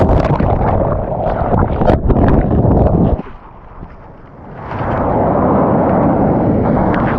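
Loud, roaring wind at Blue Lagoon beach in Pagudpud buffets the microphone in heavy gusts, dipping briefly midway before surging back to a steady rumble.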